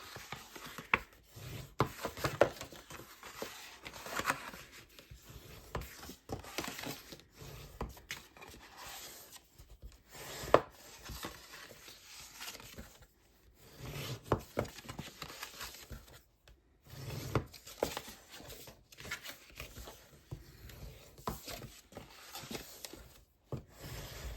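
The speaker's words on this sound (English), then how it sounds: "I'm going to fold and burnish, there we go, on all of our score lines." Paper being folded and burnished along score lines for a small handmade selection box: close, faint rubbing, scraping and creasing sounds in short irregular bursts with pauses, no voices.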